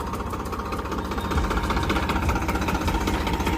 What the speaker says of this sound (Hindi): ट्रैक्टर मेरा स्टार्ट खड़ा है, इसको लेके चलता हूँ अपने कट्टे रख के घर की ओर